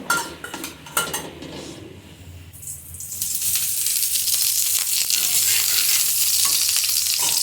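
A few clinks of utensils, then a steady loud sizzle of a thick aloo paratha frying on a hot griddle that continues to the end.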